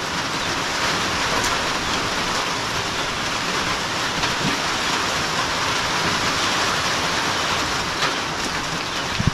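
Steady, dense rain hisses continuously for several seconds, loud and close, like a downpour drumming on a surface.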